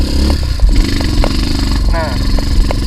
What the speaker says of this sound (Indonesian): Dan motor ini naik sendiri brother, tanpa dipaksakan.